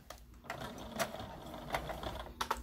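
A sewing machine runs a close line of stitches from the raw edge of fabric for a makeup brush holder, giving quiet, irregular mechanical clicks and brief whirring bursts.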